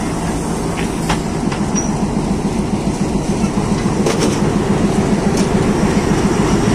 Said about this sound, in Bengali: ইঞ্জিনটা গিয়ে এখন লেগে যাবে ট্রেনের সাথে, ট্রেনের বগিগুলোর সাথে ইঞ্জিনটা গিয়ে লেগে যাবে।